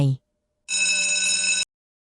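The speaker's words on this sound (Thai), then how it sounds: "ชุลพัฒสะดุ้งตื่นขึ้นมารับโทรศัพท์ของมารดา" A telephone rings once with a bright, sustained electronic trill lasting about a second, heard clearly and close after a brief cut-off voice at the start.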